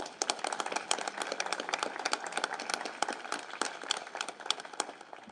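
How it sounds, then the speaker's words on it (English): Church congregation clapping together, a dense run of close, sharp handclaps with an uneven rhythm, steady and moderately loud with no voices over it. "Now we can clap a little bit louder."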